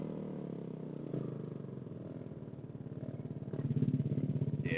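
A motorcycle engine idles with a steady pulsing throb during wheelie practice, then the idle is raised and the beat quickens and grows a little louder toward the end.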